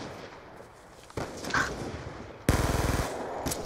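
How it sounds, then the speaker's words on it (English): Machine gun fire in the Black Ops 2 video game, starting as faint distant shots, then a close, loud rapid burst of evenly spaced rounds followed by more gunfire. "he's using a machine gun"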